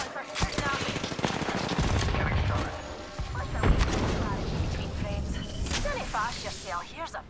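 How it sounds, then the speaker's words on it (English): Rapid bursts of gunfire and explosions in a first-person shooter match, loud and dense throughout, with in-game voice callouts and a player talking over the shooting. "Enough, I'm getting shot at."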